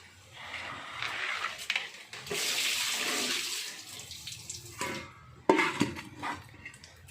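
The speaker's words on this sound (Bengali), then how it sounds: "এবার ওই মাছগুলো তুলে নিচ্ছি জল থেকে" Fish fillets are lifted out of salted soaking water, with sloshing, dripping water and light clatter of a dish or pot, close by and fairly quiet.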